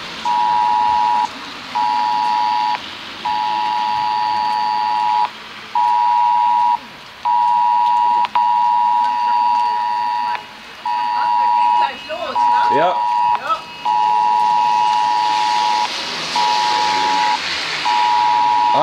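A civil warning siren test on national warning day in Duisburg, Germany sounds as a loud, steady electronic tone broken by short regular gaps, holding through the whole stretch while brief clatter and muffled movement pass nearby.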